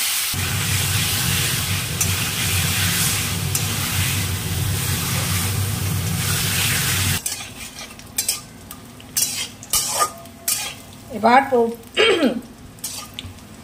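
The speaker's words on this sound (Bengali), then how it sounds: "এই যে এখন আলুর দমের মশলাটা কষাচ্ছি" Spice paste for aloo dum sizzles and gets stirred in a pan, a steady loud fry for several seconds, then quieter with scattered scrapes and clinks of the spoon.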